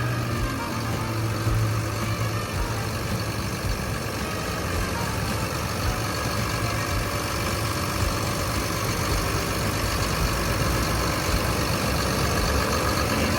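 A Caterpillar 320E 20-ton excavator's six-cylinder turbo diesel engine idles steadily and loudly at close range, a continuous low rumble with a mechanical hum that never changes throughout.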